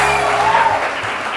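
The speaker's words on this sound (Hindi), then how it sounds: "बहुत सारी तालियां सलमा के लिए" A studio audience on a TV morning show claps in a short, dense burst, loud and close, fading slightly toward the end.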